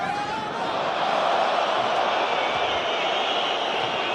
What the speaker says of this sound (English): Crowd howling because they feel that Jerry Collins is offside